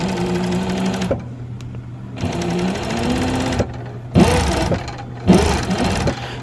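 A sewing machine stitches fabric in several bursts of fast, even mechanical whirring, each lasting about a second or more and separated by short pauses, heard up close.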